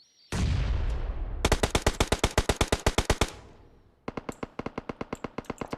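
Loud, close automatic gunfire in a competitive multiplayer shooter match: a noisy burst, then a long rapid string of evenly spaced shots, a short pause, and another fast burst.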